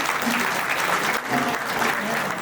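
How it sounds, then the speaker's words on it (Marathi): An audience at a Bhagvan Jivheshwar Jayanti community gathering with a blood donation camp gives sustained applause, dense crowd clapping that stays loud and steady from start to finish. "त्यांच्यासाठी टाळी"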